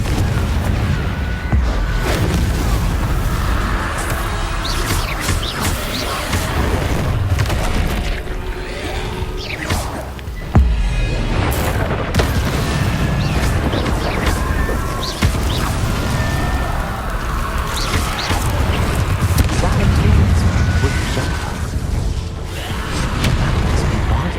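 Booming explosions and crashing impacts from the Confringo fire spell in Hogwarts Legacy come loud and repeated over busy game audio and background music for about twenty seconds.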